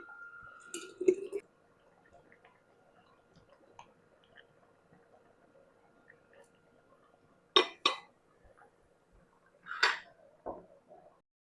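Hot homemade tomato jam scooped into clean glass jars held on a cloth, with a clink near the start and sharper spoon-on-glass scrapes and taps around eight and ten seconds amid quiet kitchen background.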